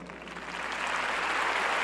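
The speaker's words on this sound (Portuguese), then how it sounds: "Vamos aplaudir as pessoas que nesse momento foram libertas" A church congregation applauds during a Catholic deliverance service, a dense, steady wash of clapping that swells slightly and holds at full strength for two seconds.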